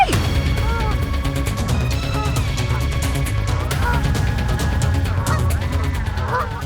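A flock of geese honks loudly and continuously near a beach, with dense overlapping calls and some crashing noise mixed in.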